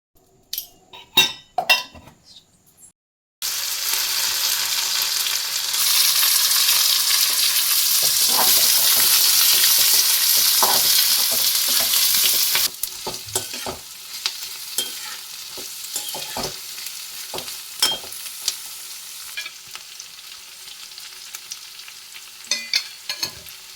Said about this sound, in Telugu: Turmeric powder, red chilli powder, salt అన్నీ వేసేసి మంచిగా ఫ్రై చేయాలి.